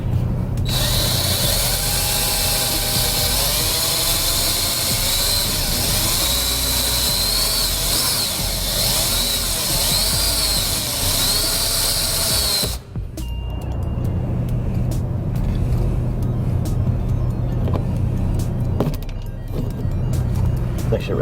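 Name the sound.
drill drilling out rivets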